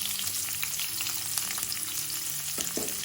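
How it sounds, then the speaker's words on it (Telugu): Sliced onions dropped into hot oil for an Andhra-style bitter gourd fry, giving a loud, continuous close sizzle with crackling bursts and a couple of brief stirring knocks near the end. "ఇప్పుడు ఆయిల్ వేడయ్యాక ఈ ఉల్లిపాయలను వేసుకోవాలి."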